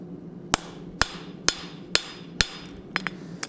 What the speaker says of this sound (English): so we don't end up mashing the center of our anvil with our hammer face